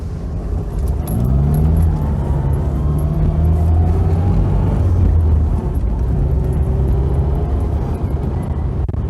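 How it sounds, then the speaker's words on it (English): Classic Mini Clubman driving on the road, its engine a steady loud drone with shifting harmonic whine as it pulls along, continuous and close throughout without talk. "I cannot get over the way this car drives."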